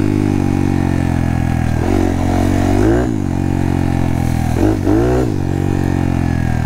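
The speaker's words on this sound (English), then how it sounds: "Backfiring a little bit." A 181cc Monkey motorbike engine drones loud and close while riding on a trail, with its pitch dipping and recovering twice as the throttle changes and a few faint pops, with no talk.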